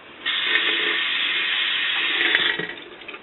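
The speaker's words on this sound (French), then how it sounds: "On va la rincer à l'eau." A small clear plastic ring from a Rapidograph technical pen rinsed under a running tap, a steady loud hiss of flowing water for about two seconds that then tapers off, close up and without speech.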